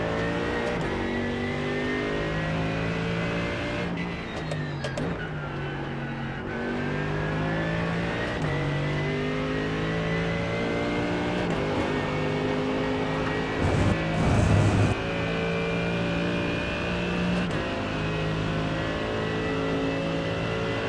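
A GT3 race car at Spa, heard on board: the engine note climbs and falls through repeated gear shifts, then eases off and coasts, staying loud and close throughout.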